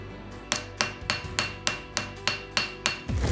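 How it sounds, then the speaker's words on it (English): A hammer strikes a small gold button in about nine sharp, evenly spaced blows, each ringing briefly, loud and close with no talking. "I'm gonna hammer just a little bit to get more of a feel"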